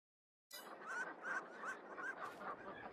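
Ducks in the Farming Simulator 22 game let out a run of rhythmic honking quacks, about six calls in steady succession, close and fairly loud after a moment of silence.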